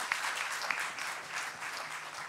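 A dense crowd claps loudly and steadily at a university debate event after the best speaker from the University of Chittagong is named, with the clapping sustained throughout and no voices over it.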